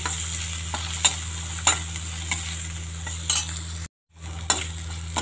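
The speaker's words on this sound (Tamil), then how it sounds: "இப்போ வந்து நாம் கட் பண்ண ஆனியன், தட்டி வச்ச பூண்டு அதை சேர்த்து நல்லா வதக்கிக்கலாங்க" Chopped onion and crushed garlic sauté in a pan for a manathakkali vathal kulambu, a steady close sizzle broken by scraping stirs, with a brief dropout near the end and no voices.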